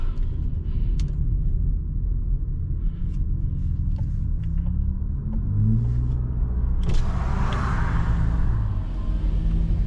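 Tuned car on a top speed run, a steady low engine rumble with a rising tone as it accelerates, loud and close from inside the cabin, with no talk.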